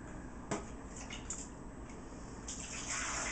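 Very hot boiled water pours into a wine-making container, a steady rushing gush with a brief clatter early on and the flow growing louder and brighter toward the end, close up with no talking.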